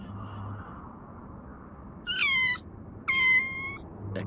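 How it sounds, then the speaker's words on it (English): Two clear cat meows from the video game No More Heroes, each about half a second long and about a second apart, sounding over a quiet, low ambient game background. "A cat? You frightened me for a second, kitty."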